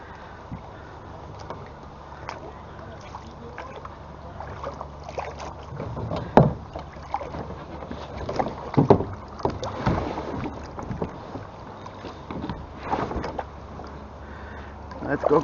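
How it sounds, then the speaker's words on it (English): Paddling a kayak on the Rideau River in Ottawa in summer, with soft irregular splashes and drips of the paddle against steady wind noise on the microphone, close and fairly quiet. "Let's go kayaking."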